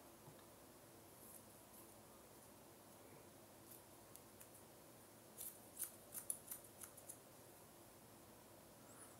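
Scissors cutting hair for a front-angled bob, a few quiet snips clustered near the end over a faint room hiss.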